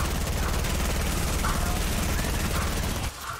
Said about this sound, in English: Oh, the minigun does not have to reload.